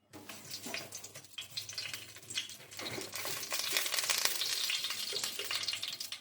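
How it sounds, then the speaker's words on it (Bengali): A bay leaf dropped into hot oil for a Bengali mixed vegetable curry sizzles and crackles steadily, building louder over several seconds. "এবার আমি একটা তেজপাতা দিলাম,"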